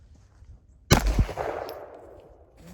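A single sharp gunshot cracks against a bucket holding a solid block of ice, a loud metallic clang that rings and fades over a couple of seconds.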